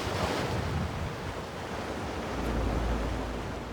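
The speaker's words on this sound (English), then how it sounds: "winds of up to 60 miles an hour are whipping up icy waves that are battering Dawlish" Icy waves whipped up by winds of up to 60 miles an hour batter the South Devon coast at Dawlish in a continuous, loud roar of surf, with heavy wind rumble throughout.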